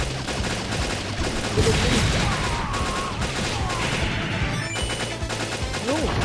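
Rapid, dense gunfire and crashing blasts from the Metal Slug Awakening video game as the player shoots at tanks. The din runs continuously and loudly throughout, with busy game effects layered on top.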